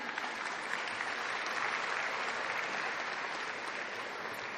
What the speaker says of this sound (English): Remember, you can go ahead and clap.